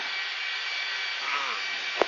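Blue Angels jet aircraft engines throttling up for taxi, a steady broad roar with a rising whine, alone, ending in a brief sharp thump.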